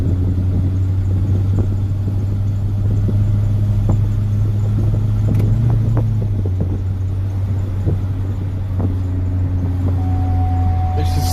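A flood-damaged Corvette engine drives lightly in third gear, giving a steady low rumbling drone with a little road noise and occasional faint clicks inside the car.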